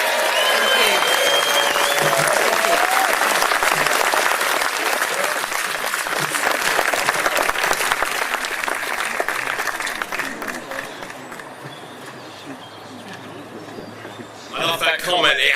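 A crowd applauding a newly elected Reform UK Member of Parliament, loud sustained clapping that fills the room, then gradually thins and fades before a voice and renewed noise break in at the end.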